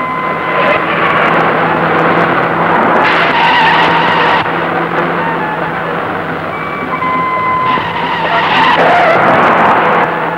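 A car skids and speeds in a 1980 Pakistani film scene, with long loud tire screeches and engine roar that swell and fade over a continuous close driving noise.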